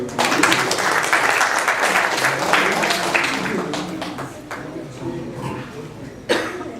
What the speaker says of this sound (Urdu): تو آپ محمد حبیب صاحب کے لیے ذرا تالیاں بجائیے گا